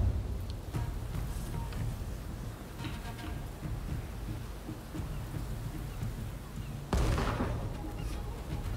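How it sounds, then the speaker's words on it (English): A cannon fires in the video game Rise of the Ronin: a sudden heavy boom near the end stands out over a constant rumbling, crackling battle bed with a few fainter thuds earlier on. "I gotta use a cannon."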